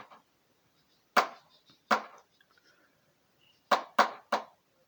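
Eggplant is chopped into pieces on a board, giving five sharp knife thuds close by: two spaced strokes, a pause, then three quick ones in a row, with no talking.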